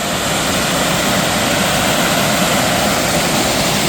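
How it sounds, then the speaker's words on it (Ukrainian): A small waterfall of clear, clean water in the British Columbia outdoors, a steady loud broadband rush recorded close up, continuous and unchanging with no voices. "Такий водоспад невеличкий, але водичка класна, чистенька."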